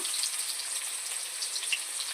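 Potatoes frying in oil with salt give a steady high crackling sizzle, fairly close and even throughout, with scattered sharper pops and no talking.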